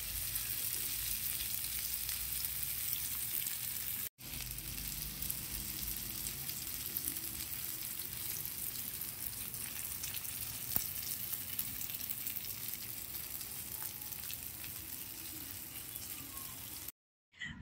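Surmai kingfish fries in a pan over a medium flame, a continuous soft sizzle and crackle with a brief drop near the start and a sudden cut at the end.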